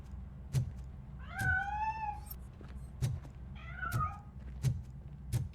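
A cat meows twice in the video game RoboCop: Rogue City, each call a drawn-out, wavering cry, heard alone over a low steady background with soft rhythmic thumps.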